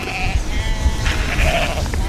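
Sheep bleat nearby in a couple of drawn-out, wavering calls, one following another, with steady low background noise.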